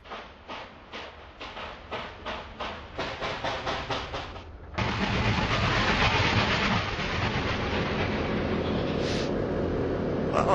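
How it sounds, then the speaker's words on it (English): A train hauled by three new diesel locomotives passes: rhythmic clacking of wheels over rail joints for several seconds, then a sudden loud, dense rumble as the train rolls close by, holding steady to the end. "Must be the new diesels with the train."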